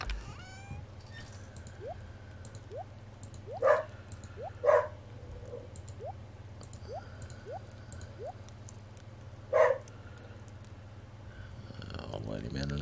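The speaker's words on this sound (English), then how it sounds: "Guy's sitting outside the window barking." A dog barking outside a window during winter, a few sharp barks heard at a distance, spaced apart over a steady background hum.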